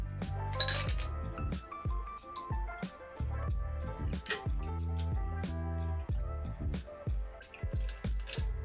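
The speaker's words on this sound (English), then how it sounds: "Fill with ice." Ice cubes clink and tumble into a cocktail glass while mixing a Long Island Iced Tea variant, the LA Water, giving a flurry of close, bright knocks and rattles in quick succession.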